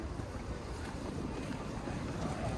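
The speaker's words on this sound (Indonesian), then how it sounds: "ini anginnya kenceng banget nih" Strong wind blowing into an outdoor microphone, a constant heavy low rumble and buffeting roar, loud and unbroken throughout.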